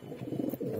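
A pigeon from a breeding pair gives a single short, close, soft throaty coo.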